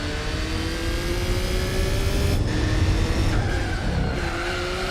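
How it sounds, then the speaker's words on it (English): A race car's engine drones loudly in Gran Turismo 4 with long tire squeal and skidding, a sustained steady tone holding through the stretch without talk. "the engine sounds absolutely gutless"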